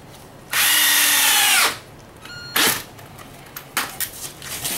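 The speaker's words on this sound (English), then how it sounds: "drill hole and our 2-inch wood screw" A power drill whirs in one sustained burst, driving a 2-inch screw into wood through a 1/8-inch pilot hole, followed by shorter spins and a few knocks and clunks.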